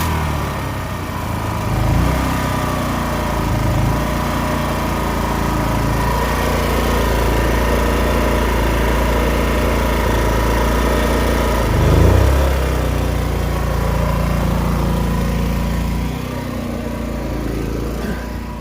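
An engine idles steadily aboard the restored boat Lisa Marie, a continuous low rumble with a faint rise near the middle and no one talking.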